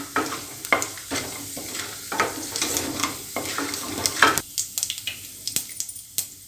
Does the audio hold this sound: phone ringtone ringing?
no